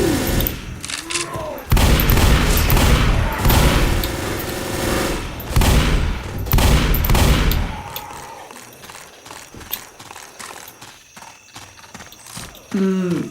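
Repeated shotgun blasts and gunfire from the zombie shooter Left 4 Dead, loud bursts close together for the first eight seconds, mixed with game noise and a voice talking, then quieter clatter.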